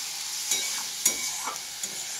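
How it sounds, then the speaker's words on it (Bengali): A homemade spice paste fries in a pan with a continuous bright sizzle, punctuated by a few soft scraping stirs. "এবারে এটা কিছুক্ষণ আমি ভাজবো মশলাটা।"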